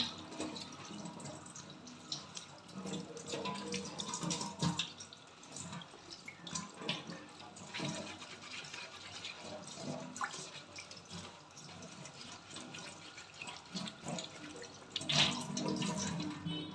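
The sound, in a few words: tap water running while washing taro (colocasia) leaves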